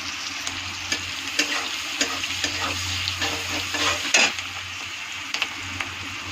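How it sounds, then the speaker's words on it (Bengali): A garlic clove frying in hot oil with a crushed cardamom pod, steady close sizzling broken by repeated spatula stirs and scrapes against the pan, no talking. "একটা রসুনের পিস কোয়া, একটু ভালো করে লাল লাল করে ভেজে নিই।"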